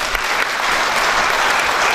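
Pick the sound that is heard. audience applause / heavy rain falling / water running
audience applause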